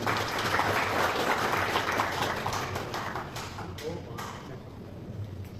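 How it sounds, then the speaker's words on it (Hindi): Applause from the audience at an awards ceremony, a dense, steady clapping that is loud at first and then fades a little, with a voice over a PA speaking on top of it. "जोरदार तालियां प्लीज"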